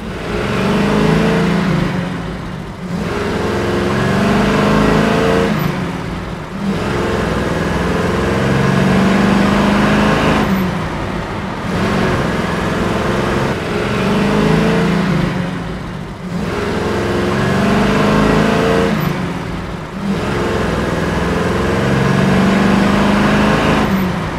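A 1969 Chevrolet Camaro Z/28 pulls hard through its gears, the loud engine rising in several long surges broken by brief shift pauses, heard from inside the car with no talking.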